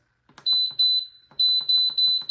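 An electric pressure cooker beeps, a high electronic pulse repeating in two bursts of quick tones separated by a short pause, loud and close with no one speaking.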